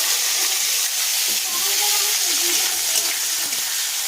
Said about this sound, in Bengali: তেলটা গরম হয়ে গিয়েছে, এবার দিয়ে দেবো এতে শুকনো লঙ্কা ফোড়ন। এবার দিয়ে দেবো পেঁয়াজ